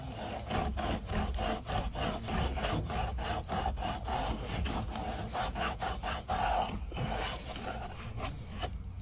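Hands rubbing and smoothing a piece of wood the way sandpaper would, a continuous close-up scraping and rasping with quick repeated strokes throughout.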